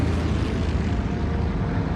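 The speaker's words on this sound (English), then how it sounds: "I see P-51s coming in to help" Propeller-driven P-51 fighter planes fly in a wartime aerial battle scene from the TV series, with a dense, continuous engine roar at steady loudness and no voices.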